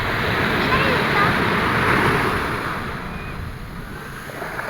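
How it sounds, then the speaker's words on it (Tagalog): Sea waves and surf rolling onto the beach at La Union in the Philippines, a broad steady wash of water with wind noise on the microphone, loud at first and easing slightly toward the end. "Ayan yung dagat, share ko sa inyo."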